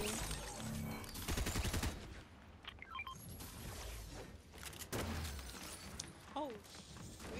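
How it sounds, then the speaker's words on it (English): Rapid gunfire in the Fortnite video game, aimed at the player, comes in dense bursts mixed with sharp cracks and impacts, loud and close at first and then scattered, with a voice talking over part of it. "somebody's shooting at me."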